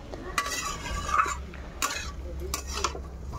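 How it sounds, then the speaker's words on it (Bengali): Jackfruit seeds being stirred and sautéed with turmeric, cumin powder and oil in a pan, heard as scraping, clinking strokes of a spoon against the pot at an irregular rhythm, close and moderately loud. "সাথে একটু হলুদ আর অল্প সামান্য একটু জিরের গুঁড়ো দিয়ে এখন এটাকে খুব সুন্দর করে কষিয়ে নেব"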